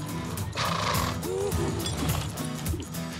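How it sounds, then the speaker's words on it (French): Horses whinny while hooves clip-clop during a warm-up in an outdoor arena at a theme park show, the neighing rising over steady hoof and tack noise. "on va à la carrière avec les chevaux pour faire l'échauffement du cheval"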